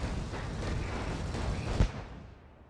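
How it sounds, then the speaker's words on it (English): Fireworks explode as a vehicle drives over them in Dead Rising 3, a dense rumbling barrage of booms and crackles with one sharp bang near the end before the noise fades out. "Why does driving on fireworks make them explode?"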